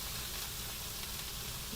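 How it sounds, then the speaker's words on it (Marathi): Radish and radish greens sautéing in a pan for dal mula bhaji, giving a steady, dense sizzle and hiss throughout, close and even with no voices. "छान असं परतून घ्या हा पाला आणि हा मुळा"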